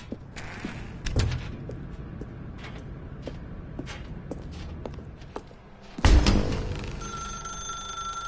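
A telephone rings in The Stanley Parable video game. A few soft thumps and footstep-like knocks come first, then a sudden loud, sustained electronic ring bursts in near the end and keeps sounding.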